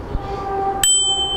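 A bicycle bell gives a single bright ding that rings on with a clear sustained tone, loud and close, after a quieter stretch of low background hum.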